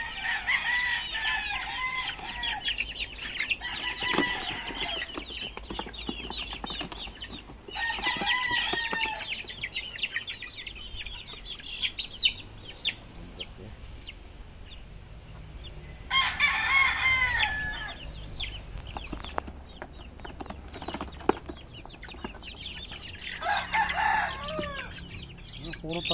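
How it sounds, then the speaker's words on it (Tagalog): Several roosters crow in repeated long calls spaced through the stretch, mixed with clucking hens and scattered farmyard clatter, fairly near and loud, with occasional voices in the background. "Puro tandang ano eh."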